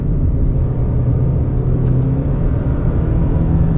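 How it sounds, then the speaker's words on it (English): Knobby tires hum on the road under a lifted 2020 Subaru Crosstrek, a steady close rumble of tire roar and engine noise inside the car that stays constant and loud throughout. "Just as I start to hear those knobby tires warming up on the road."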